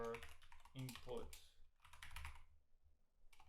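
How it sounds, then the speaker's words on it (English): Keys on a computer keyboard are tapped in short bursts of quick clicks with brief pauses between, close and moderately loud, while a voice speaks intermittently. "naming is start typing X, and then the name"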